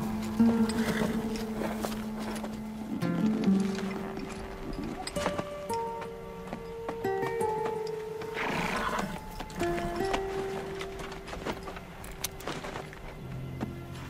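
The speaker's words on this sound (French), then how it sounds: "C'est le cheval du docteur Jordan." Horse hooves clopping at a slow walk with scattered thuds, mixed with animal snorts and grunts in a steady outdoor ambience.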